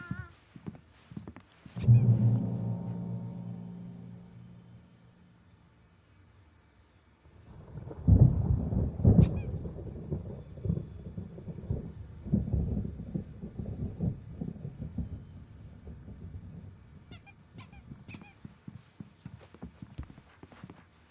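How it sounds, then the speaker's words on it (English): Thunderstorm in the video game Alan Wake Remastered: a loud thunder crack and long rumble, then a second heavy roll of thunder with rain and scattered thuds, close and dominant, with no speech. "There's a storm coming. Oh, what a storm."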